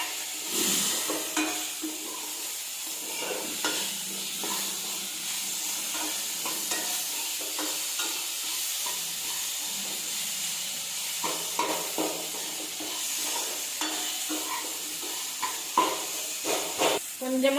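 Ingredients for a ridge gourd peel chutney, with tamarind and salt, sautéing in a pan: a continuous soft sizzle and hiss, with repeated stirring scrapes and light clinks throughout, close and steady.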